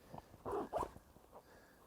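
Pit zips on a raincoat being unzipped along the armpit: two quick rasping zipper pulls close by, with a couple of softer fabric rustles before and after, no talk.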